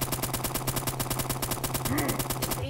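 Rapid automatic gunfire in a Roblox shooter map, a loud steady stream of evenly spaced shots running nearly the whole moment before cutting off, with a faint voice underneath.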